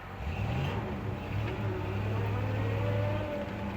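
A 1970 Jeep Wagonmaster accelerates in four-wheel-drive low, its engine note rising steadily and droning close by for several seconds with no talk.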